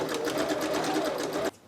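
A sewing machine runs at steady speed stitching a scrap fabric pouch, a close rapid rhythmic whirring chatter that stops abruptly near the end.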